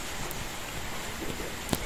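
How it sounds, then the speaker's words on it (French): Rain falls outdoors with a steady, soft hiss and a few sharper drops or taps against a surface, faint and continuous throughout. "il s'est mis à pleuvoir"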